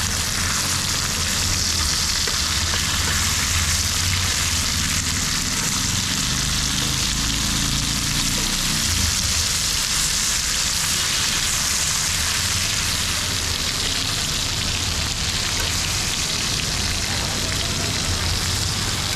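A beef steak sizzles steadily in a hot pan, with a loud, dense crackle that holds unbroken throughout.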